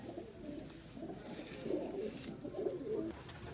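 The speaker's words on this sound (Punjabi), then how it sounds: "ਜਿਹੜੇ ਬਾਬੇ ਧੰਨੇ ਵਾਲੇ ਕਬੂਤਰ" White pigeons coo softly in low, repeated throaty calls against a quiet background hiss.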